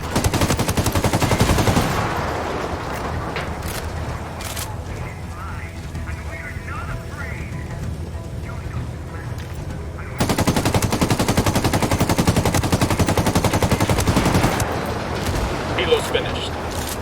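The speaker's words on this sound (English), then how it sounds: "I'm opening fire." Loud, sustained automatic gunfire in the Ghost Recon Wildlands video game, continuous bursts of machine-gun fire with a brief lull midway, then firing resumes just as intensely.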